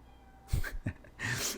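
Pet cat meowing indoors, a few short close calls in quick succession with a longer, louder cry at the end.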